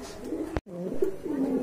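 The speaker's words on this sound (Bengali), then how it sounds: "এই যে দেখেন টানা পায়ের কবুতর" Pigeons coo softly and continuously in a loft of pigeons for sale, among them feather-footed birds, with one brief sharp knock and a short dropout partway through.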